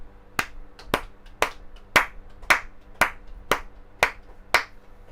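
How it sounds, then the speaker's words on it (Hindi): Ten sharp, evenly spaced hand claps, about one every half second, offered indoors as a small tribute to Covid frontline workers, clear and close with no talking. "हमारी तरफ से ये थोड़ी तालियां।"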